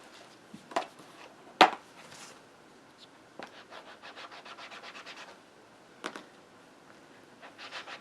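A rubber stamp gets scrubbed clean of ink, giving a few sharp knocks followed by a quick series of short rhythmic rubbing strokes, close up and fairly quiet, with no talking.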